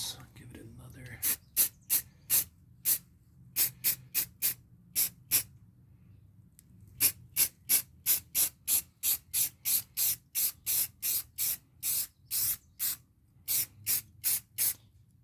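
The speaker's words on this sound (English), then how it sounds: "I am using a air hose compressor, which comes really in handy" An air-compressor spray gun coats Jeep Wrangler rims with paint in many short hissing bursts, close and steady, pausing for a few gaps and then running as a rapid, regular series of sprays.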